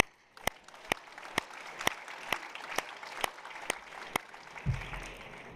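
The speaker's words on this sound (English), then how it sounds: "Let's give them a big round of applause." A ballroom audience at an Emmy awards ceremony applauds, a soft wash of distant clapping overlaid by regular sharp, loud claps from one pair of hands close by, ending with a low bump.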